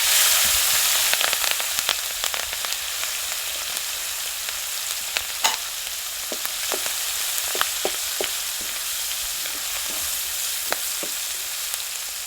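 Green chillies fry in hot tempering oil in a village kitchen, a loud, steady sizzle with scattered crackles and pops throughout, with no talking.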